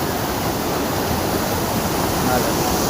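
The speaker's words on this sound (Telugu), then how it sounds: "వాటర్ ఫాల్ కొంచెం పైకి వస్తే వాటర్ ఫాల్ అంతా చాలా సూపర్గా ఉంది" A waterfall near Salur toward Thonam rushes in a loud, unbroken roar of falling water heard up close.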